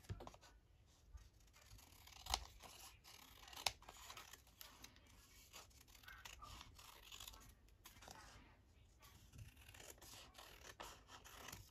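Scissors trimming a paper craft tag, with soft scratchy cutting and rustling across the whole stretch and a couple of sharper snips standing out, close and fairly quiet.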